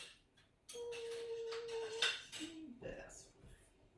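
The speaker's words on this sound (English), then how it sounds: "Let me scrape the sides off." Spatula scraping celery pesto from the sides of a bowl, a few soft scrapes and clinks of utensil on dish, faint and close.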